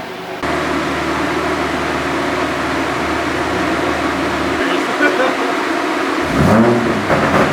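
MK5 Toyota Supra fitted with a bigger turbo, running on a dyno: a steady engine drone with low humming tones holds throughout, a shift in pitch near the end suggesting revving, with voices talking over it.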